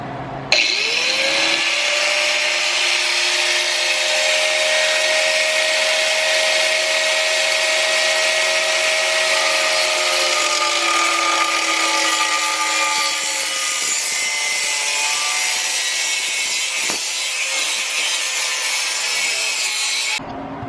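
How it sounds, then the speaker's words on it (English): A power cutting tool grinds steadily through the front of a rusted Toyota RAV4 muffler pipe, a loud continuous metallic whine holding for about fourteen seconds before the pitch drops and it winds down, with no talking. "I'm just gonna cut the front of the muffler off right now."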